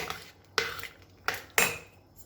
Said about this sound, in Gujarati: હવે બધું બરાબર મિક્સ કરી લેવું.